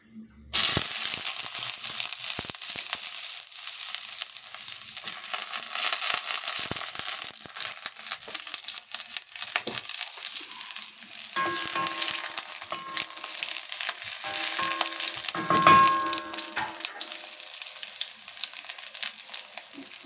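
Onions fry in a hot pan with a loud, dense crackling sizzle that runs throughout, broken by occasional scraping stirs and a brief bright hiss midway; no speech.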